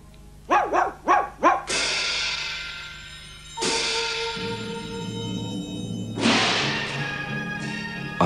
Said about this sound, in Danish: Det der er guden Erlangs fjollede hund.